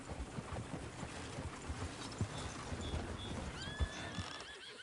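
A horse whinnies in Red Dead Redemption over clip-clopping hooves and soft ambient noise, the neigh rising clearly near the end; moderately faint and close.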